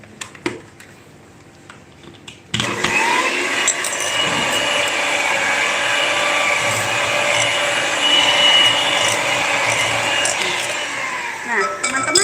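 An electric hand mixer beats butter in a home kitchen, switching on after a quiet start into a loud, steady motor whir that runs continuously to the end.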